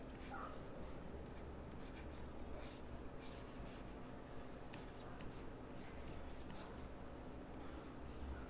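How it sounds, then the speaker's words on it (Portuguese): Pen scratching steadily across paper while a face is drawn, with a continuous soft, close scribbling texture and faint stroke accents throughout. "eu já vou começar a desenhar o rosto"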